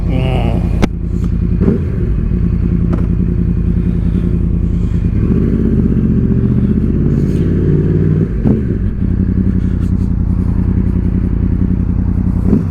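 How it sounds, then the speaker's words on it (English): A cross-plane crank motorcycle engine idles and revs steadily at close range, a low throbbing rumble with brief throttle blips and some clatter. "Listen to that cross-plane crank motor sing."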